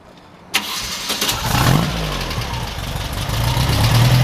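A Volkswagen engine with a dual sport exhaust in a 1957 Porsche Speedster replica cranks and catches with a sudden burst, then settles into a steady, close idle that rumbles on without talk.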